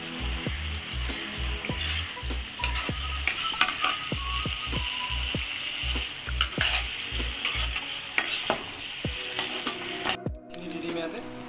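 Boiled potatoes cook in a pan with fried catfish for an Assamese curry, under a steady sizzle broken by repeated sharp scrapes and clinks of a spoon stirring against the metal pan, close up.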